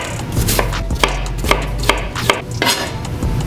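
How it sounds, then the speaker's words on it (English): Half a white onion is diced with a knife on a cutting board, about seven crisp, evenly spaced chops ringing close and loud with no talking. "Half white onion dice."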